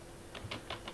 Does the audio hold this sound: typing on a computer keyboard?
yes